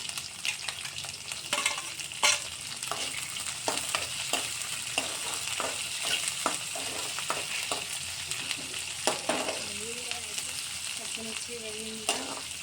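Green chillies and onion fry in an oil-filled pan for idli upma, a steady bright sizzle with repeated scrapes and stirs of a spatula. Faint voices appear briefly near the end, no words spoken over the frying.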